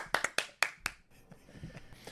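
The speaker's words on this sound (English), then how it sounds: "will you join me in giving Steve a round of applause today?" A small group gives Steve a short round of applause, with a few sharp, close claps at the start that quickly thin out into soft, scattered clapping.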